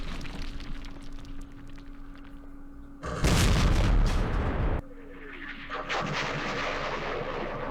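Heavy artillery fire in the Vietnam war game Campaign Series Vietnam, a loud burst of booming blasts lasting about two seconds amid quieter background rumble.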